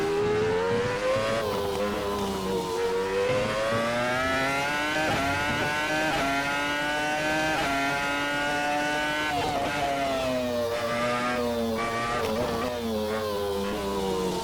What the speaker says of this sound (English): Traction control cutting the spark as we're coming back on the power midway through the corner.